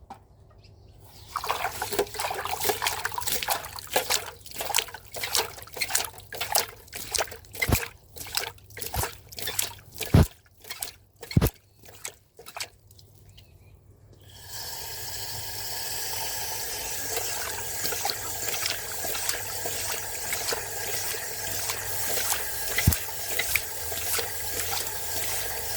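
Tap water running and splashing as garden water is changed, a steady broadband rush after a stretch of irregular drips and knocks, continuous and fairly close.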